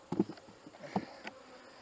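Honey bees buzz around an opened hive during an inspection, with soft intermittent hums and a few brief knocks or handling taps close by.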